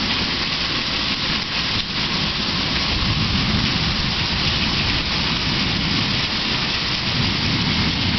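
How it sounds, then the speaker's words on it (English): Thunderstorm on a very windy, wet night: steady heavy rain and wind fill the clip with a dense, constant roar, and low thunder rumbles beneath it throughout, with no voices. "thunder and lightning going on"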